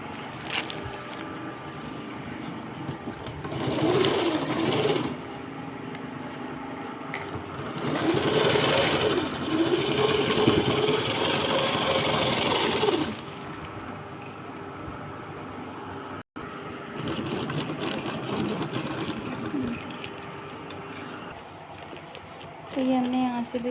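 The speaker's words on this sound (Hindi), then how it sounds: "अब आप इसको ऐसे पकड़ करके ये वाले हिस्से में सिलाई कर दीजिए।" A sewing machine stitching fabric patches on a large handbag runs in two sustained whirring bursts, with a quieter stretch between them and a short start near the end.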